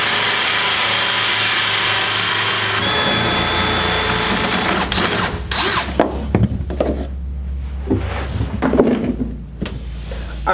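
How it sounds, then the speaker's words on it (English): A power drill bores holes for a dishwasher water line and drain hose, a loud steady motor whine running for several seconds, then breaking into shorter bursts with knocks and handling clatter. "So let's drill some holes."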